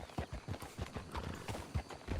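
Horses' hooves clip-clopping in Red Dead Redemption 2, a steady, close, rhythmic beat of repeated hoof strikes on the ground, heard alone without talk.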